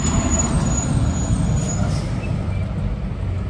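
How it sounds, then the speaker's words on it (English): A truck rumbles by outside a dyno shop, a steady low engine drone with a faint hiss on top, moderately distant and continuous with no talk over it. "So I got another truck going by."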